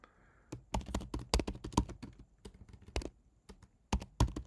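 Fast, uneven typing on a computer keyboard, with close, sharp key clicks in quick bursts and short pauses between them, heard alone with no talk.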